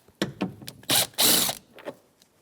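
A hand ratchet with a 10mm socket turns tail light bolts on a 2013-2018 Toyota RAV4. Close, quick clicking bursts come in short uneven runs, with two louder sustained grinding stretches in the middle.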